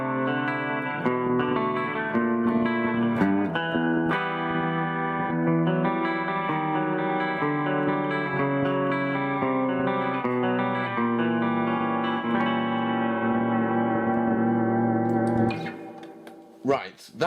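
An electric guitar plays through a Yamaha THR10X amp with distorted, chorus and echo effect tones, sustained notes and chords ringing continuously before a short pause and a few final strums.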